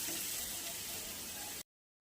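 Shiuli leaf fritters frying in hot oil, a steady dense sizzle at close range that cuts off abruptly near the end, with no talk.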